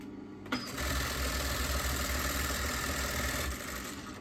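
Sewing machine running steadily as it stitches kameez fabric, a continuous loud mechanical whir starting after a brief pause and holding for about three seconds before easing off.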